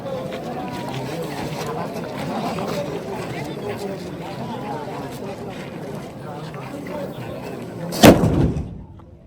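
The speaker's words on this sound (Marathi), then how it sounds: "महाराजांच्या समोर तोफेची सलामी आता आपल्याला बघायला भेटेल." At a coronation ceremony at Raigad Fort, a ceremonial cannon fires a single loud, close boom near the end, cutting through steady crowd chatter and talk before quickly dying away.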